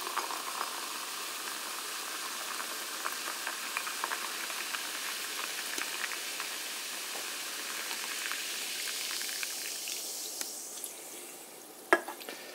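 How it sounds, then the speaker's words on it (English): Steady fizzing hiss of lemon sparkling water poured over ice in a cup close by, continuous and fairly quiet, tapering off near the end with a single sharp clink. "open up this PC Lemon Sparkling Water and you pour it into this cup"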